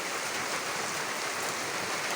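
Steady rain falls in a village at dusk, a soft, even hiss of drops without pause and no voices.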